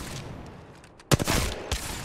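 A Mozambique shotgun firing in Apex Legends, one sharp loud blast followed by quick rattling echoes and a softer second report, no voices.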